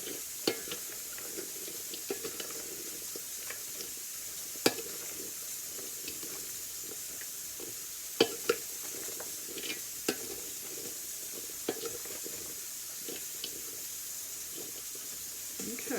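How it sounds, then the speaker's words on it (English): Okra being stirred in buttermilk in a bowl before frying, a faint, steady wet swishing with scattered soft clicks and taps, alone and fairly quiet. "Just keep stirring it around in that buttermilk"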